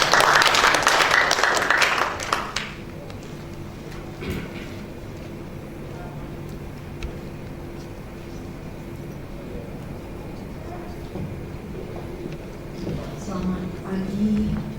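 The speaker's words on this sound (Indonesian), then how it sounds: "Beri tepuk tangan." An audience at a Betawi cultural exhibition bursts into brief, lively applause to welcome a university dean, which fades after about two seconds into a low, steady room hum with small scattered noises.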